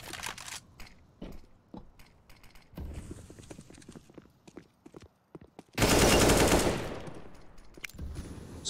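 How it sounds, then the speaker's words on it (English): Automatic gunfire spray in a CS:GO match on the Nuke map, heard as scattered rapid shots and clatter that swell into a loud, dense burst of fire partway through before tailing off. "Ryberg with the spray down through the smoke"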